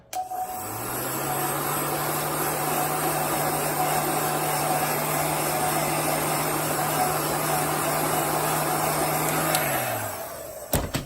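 A handheld heat dryer blows steadily on chalk paste spread over a stencil, a loud continuous whirring drone that starts, holds for about ten seconds with no pauses, then switches off.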